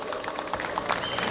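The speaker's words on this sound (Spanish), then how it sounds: "Señores y señores, fuertes los aplausos para los novios" Wedding guests applaud the bride and groom at a reception in Ameyaltepec, a brief wash of crowd clapping, moderately distant, with some voices mixed in.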